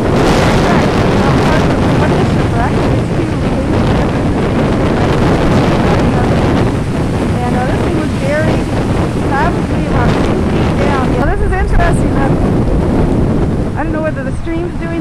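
Waves roar and wind buffets the microphone on a beach at Shipwreck near YWCA Camp Cavell during Hurricane Sandy, a loud, continuous, dense wash of surf and gusts that never lets up.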